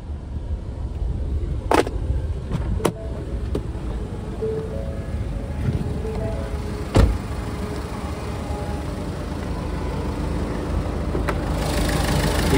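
A 2018 Ford EcoSport Titanium Optional diesel idles with a steady low engine rumble, joined by a few brief clicks and thumps from the car's controls or doors, with no talk.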